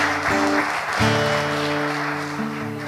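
A church congregation applauds during a sermon, a short burst of clapping that swells and then thins out over a few seconds.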